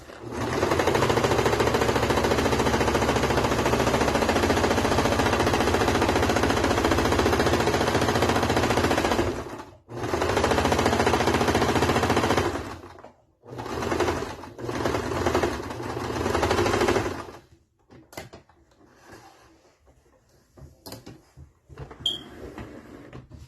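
A sewing machine runs steadily for about ten seconds, then stitches in short bursts with pauses, and the clip ends in near silence with faint handling noises.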